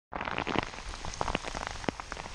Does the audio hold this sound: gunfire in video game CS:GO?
no